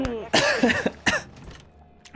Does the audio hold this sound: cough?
yes